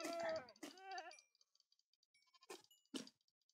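Goats on a Minecraft farm give sharp, wavering bleats and cries, two or three close calls clustered near the start and a couple more later, separated by soft game clicks and quiet gaps.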